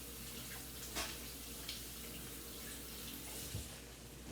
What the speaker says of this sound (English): let me go wash my messy hands